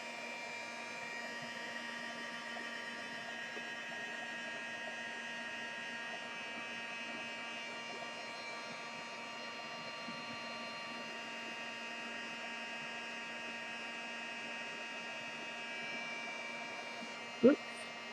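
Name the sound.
heat gun drying embellishments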